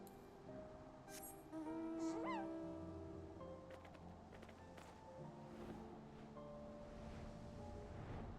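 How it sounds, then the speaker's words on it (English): Soft ocean waves lap in a Final Fantasy XIV game scene, a faint, steady wash of surf mixed with brief tonal game sounds and chimes. "You hear nothing but the lapping of the waves."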